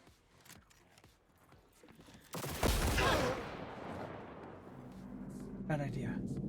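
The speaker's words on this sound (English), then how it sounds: "It's a power pistol." Power pistol fire in Cyberpunk 2077: a sudden heavy blast with a long rumbling decay, preceded by scattered sharp clicks and followed by further crackling bursts under low talk.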